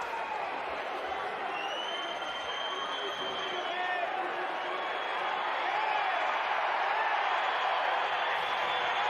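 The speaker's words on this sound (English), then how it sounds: "And the crowd really getting into it with Astudu complaining." Spectators in a EuroLeague Women basketball arena rumble and murmur steadily during free throws, a broad continuous crowd roar with scattered whistles and shouts, while a commentator talks over it.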